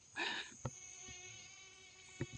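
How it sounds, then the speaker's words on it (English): A buzzing fly sound effect from a video game hums in short, faint bursts, with a soft ticking tone and occasional light clicks in the background and no talking. "every time I hear that like fly buzzing from the sounds"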